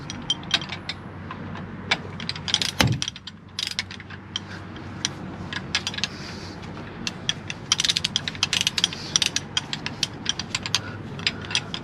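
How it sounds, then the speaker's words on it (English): A ratchet tightens wheel bolts in a workshop, giving quick bursts of sharp clicking with short pauses between strokes, close and fairly quiet, plus a few metallic knocks. "Let me get a different ratchet here."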